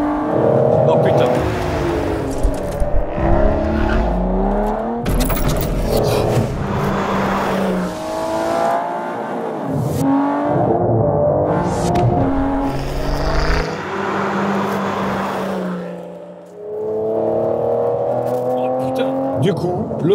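An Aston Martin sports car revs hard and accelerates with stability control switched off, engine roaring loud and close with tire squeal and skidding, while people talk excitedly over it.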